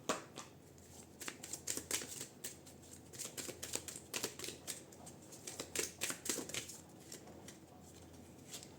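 Tarot cards shuffled and drawn by hand for a love reading, a quick run of crisp riffling snaps and papery flicks repeating steadily throughout at close range, with no talking.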